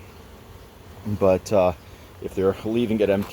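Honeybees buzz inside an open hive box full of brood, a steady low drone running beneath a man's speech.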